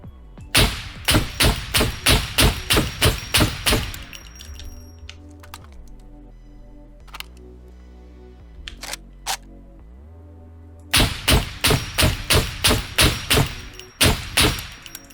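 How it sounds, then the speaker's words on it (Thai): Barrett rifle shots slamming into a level 2 wall in the video game SCUM, a rapid string of loud, evenly spaced cracks, a pause with scattered clicks and hums, then another fast burst of shots. "หนึ่งแม็กนะฮะยิงใกล้ๆ กำแพงเลเวลสองนะฮะ"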